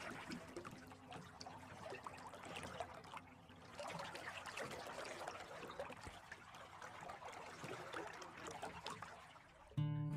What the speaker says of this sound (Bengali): নিবারণ মাঝি তার নৌকার দাঁড় টানতে শুরু করল।